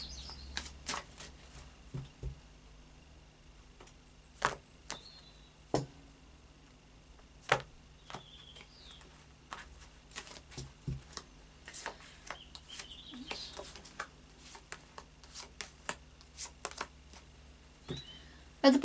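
Oracle cards from a faery oracle deck being shuffled at a table, a steady run of soft, sharp riffling clicks and slaps repeating irregularly throughout, fairly close and quiet, with no talking.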